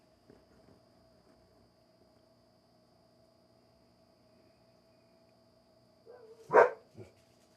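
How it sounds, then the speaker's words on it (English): A dog gives a single loud bark followed by a softer second one near the end, after a long stretch of low room hum with faint background shuffling. "Damn dogs."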